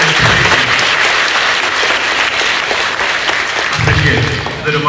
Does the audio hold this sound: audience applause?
yes